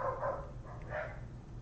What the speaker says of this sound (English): sorry if you hear the dogs barking